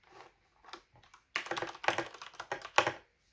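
Keys clack on a mechanical keyboard fitted with foam that fills the case bottom, giving a deep, muffled thock. Scattered single presses give way to a quicker run of typing, quiet and close.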